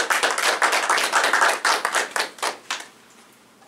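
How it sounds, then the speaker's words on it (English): An audience at a technical talk claps for the speaker, a dense burst of applause that tapers into a few scattered claps and then dies away. "can I have a big round of applause for our speaker?"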